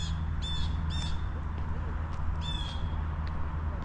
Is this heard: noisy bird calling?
yes